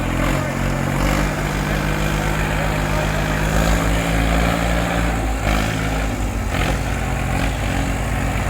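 Two tractors, a Sonalika 50 and an Eicher 551, strain their engines in a tug-of-war contest, a loud continuous diesel drone with steady low rumble and a few shifts in pitch, outdoors without talk.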